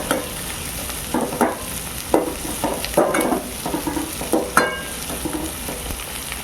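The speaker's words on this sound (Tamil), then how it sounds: "வெங்காயம் வந்து இந்த அளவுக்கு நல்லா வதங்கிட்டுப்பா." Three large chopped onions frying in hot oil for chicken gravy, with continuous sizzling broken by repeated scraping and stirring strokes of a spoon against the pan, close and fairly loud, no voices.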